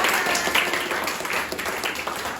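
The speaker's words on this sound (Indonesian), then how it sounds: "kita berikan tepuk tangan." Applause for a student in a university class, a short burst of steady clapping from a small group that fills the whole moment at moderate loudness.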